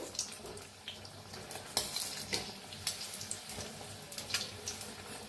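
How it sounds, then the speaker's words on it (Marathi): Eggs frying in a pan and turned to cook both sides give a soft, close sizzle with light scraping and clinks of a utensil against the pan. "अंड्याला फिरवून घेऊया आपण दोन्ही साईडने छान तळून घेऊया"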